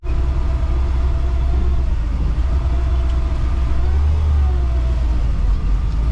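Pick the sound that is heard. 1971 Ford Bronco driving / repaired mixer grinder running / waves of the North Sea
1971 Ford Bronco driving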